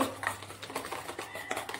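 A spoon clinks and scrapes against a bowl while stirring instant millet pancake batter, a quick uneven run of light taps and scrapes at close range.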